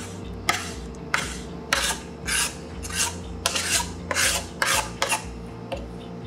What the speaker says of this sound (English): Scraping the paint off the plastic part of the dash.